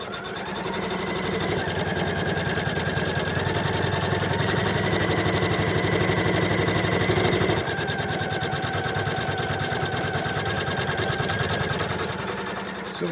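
A sewing machine runs continuously, stitching an appliqué circle in a square on a quilt block, producing a steady, close mechanical whir with rapid needle rhythm throughout and no voices.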